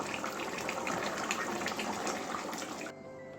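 Katla fish curry with potato and pointed gourd is poured from the pan into a bowl, a wet, gushing, splashing pour that runs steadily for about three seconds and then stops abruptly.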